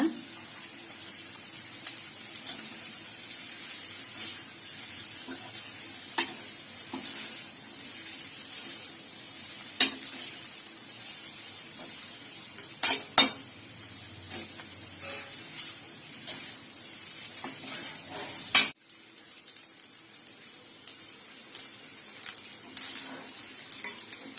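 Rice for chicken fried rice gently stirred in a pan, soft scraping and light clinks of the utensil recurring at an unhurried pace over a faint steady sizzle, close and fairly quiet, with no talking.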